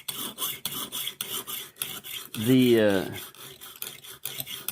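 A Rough Ryder knife is sharpened on a Lansky system's coarse stone in quick, rhythmic rasping strokes close by, broken by a short spoken word midway before the strokes resume.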